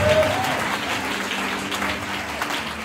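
A church congregation applauds and acclaims in a dense, sustained wave of clapping that starts strongest and slowly fades, with a voice briefly rising over the start.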